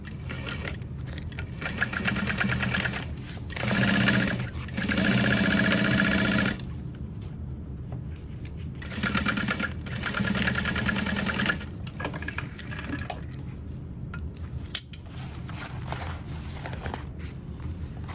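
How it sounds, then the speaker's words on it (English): Sewing machine stitching backpack pieces together, several close bursts of fast whirring separated by short pauses and handling noises. "So we're gonna sew all of that together."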